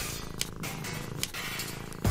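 A cat purrs in the video game Deponia, a soft continuous rumbling purr with a few faint clicks, ending in a louder burst.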